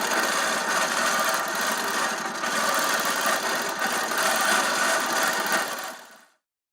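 A Bella Prima sewing machine fitted with an open toe presser foot runs steadily, a continuous close mechanical whir and rapid needle clatter that holds for about six seconds before winding down and stopping.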